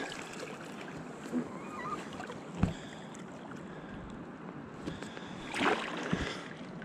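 Canoe paddling on Bowron lake water, soft splashes and dips from the paddle at irregular intervals over light wind noise.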